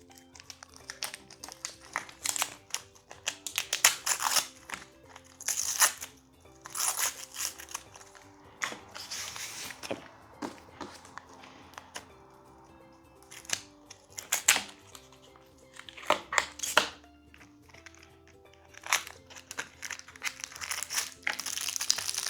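Plastic packaging crinkles and crackles in repeated bursts as a toy box package is opened up close, with brief rustling pauses and faint tonal music underneath.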